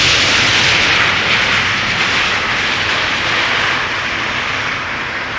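A landing airliner roars loud and close at Amsterdam Schiphol's Polderbaan runway, a broad, sustained jet rumble and whoosh that fades slightly toward the end, with no talking.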